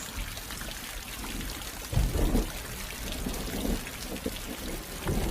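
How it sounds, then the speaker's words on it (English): Rainwater pouring through an open pipe fixed along a roof's edge during rainfall, a steady rushing splash with a few louder gushes, near and moderately loud with no talk. "Water is flowing through the open pipe fixed along the edges of the roof."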